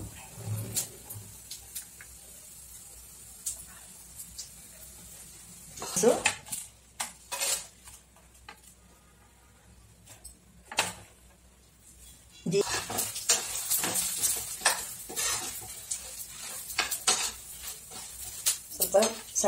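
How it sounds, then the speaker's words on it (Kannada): Spices including cumin, coriander, fennel, garlic, cloves, cashews and poppy seeds dry-roast in a pan over a low flame, with bursts of spatula scraping and clinking against the pan between quieter stretches of faint sizzling. "ಗಸಗಸೆ ಎಲ್ಲ ಹಾಕಿ ಹುರಿತೇನೆ"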